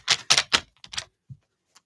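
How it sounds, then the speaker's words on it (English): Tarot cards shuffled by hand in a few quick riffling bursts, close and crisp, then a faint tap as the deck settles. "Let's shuffle that up."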